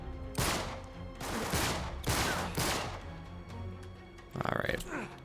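Gunfire in the video game Uncharted 3: Drake's Deception comes as several loud bursts of rapid shots spaced about a second apart, followed by a sharper clatter near the end, with a voice faintly underneath.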